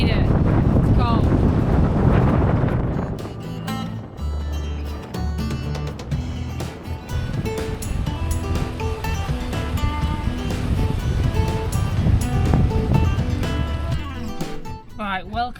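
Strong, high wind on the coast of an Outer Hebrides island roars and buffets loudly and close for the whole stretch, with a voice heard at times beneath it.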